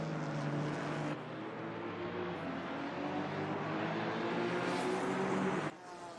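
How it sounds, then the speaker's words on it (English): GT4 race cars in Assetto Corsa Competizione roar steadily, engine tones climbing in pitch as they accelerate together, loud and continuous for several seconds with a brief dip partway through. "Cars sound absolutely fantastic here"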